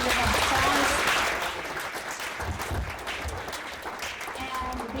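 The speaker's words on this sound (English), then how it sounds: "Give them a big round of applause." A crowd claps steadily, loudest at first and then settling into a sustained patter, with voices murmuring underneath.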